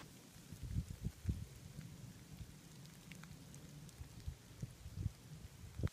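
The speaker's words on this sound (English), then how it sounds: "it's raining / sleeting, like little BBs" Rain and sleet like little BBs patter steadily on a surface close by in Colorado, with scattered louder taps and no voices.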